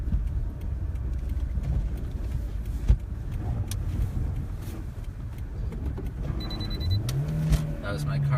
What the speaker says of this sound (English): That was my car telling me that it has no traction on the road.